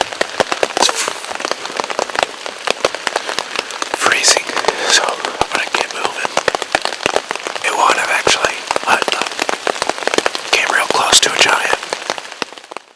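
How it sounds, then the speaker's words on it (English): Cold rain mixed with slush and snow patters loudly and continuously on a nearby surface during a bowhunting outing, dense irregular ticks and crackles with occasional quiet voice sounds. "It's like 33 degrees and raining, slush, snow."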